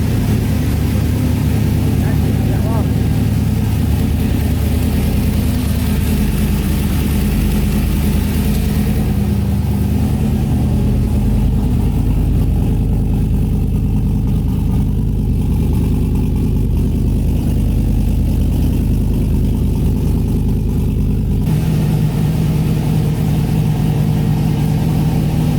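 A turbocharged Cadillac Escalade with a newly fitted expansion tank idles loud and close, its deep steady rumble droning unbroken for the whole stretch.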